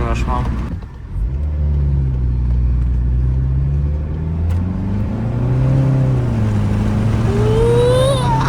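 A Volkswagen GTI engine pulls steadily at about 30% throttle, a loud rising drone that climbs through the gears up close, with people talking over it.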